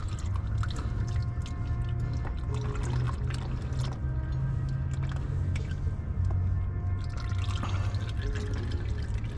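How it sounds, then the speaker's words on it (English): Engine oil drips and trickles out of a Toyota Prius during an oil change, a steady liquid patter under a constant low hum. "we're gonna spin that open and just kind of let it drip out"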